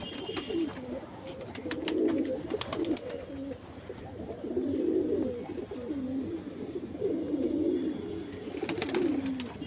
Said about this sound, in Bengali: এই যে দেখছো পায়রা কত সুন্দর সুরকি খাচ্ছে, সব পায়রা নেমে এসেছে সুরকি খাওয়ার জন্য